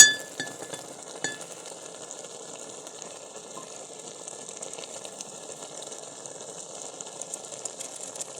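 Radish leaf saag simmers in a pot with a soft, steady bubbling hiss, punctuated early on by a few clinks of a spoon stirring against the metal, quiet and close.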